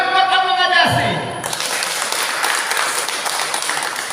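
A voice speaks briefly before a congregation at a sermon breaks into applause, steady clapping from a crowd that continues evenly to the end.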